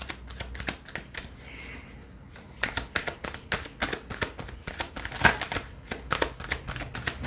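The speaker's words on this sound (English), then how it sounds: "sometimes the shuffling takes forever" A deck of tarot cards shuffled by hand in a string of quick, crisp riffling bursts, starting softer and then growing busier and louder, close to the mic with no talking.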